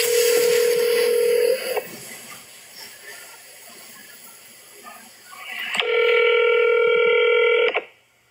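A telephone call being placed, with a loud steady tone opening, then quieter line noise, then a loud multi-tone burst that cuts off near the end.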